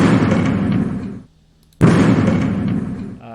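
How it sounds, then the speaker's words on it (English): A short, loud explosion with a rumbling tail that cuts to silence, followed by a second sharp blast that slowly fades. "This is a short explosion."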